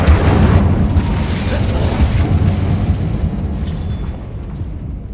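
A fire spell's blast in the wizarding game Hogwarts Legacy, cast inside an abandoned mine, lands as a loud, low rumbling burst that sustains and slowly fades over several seconds.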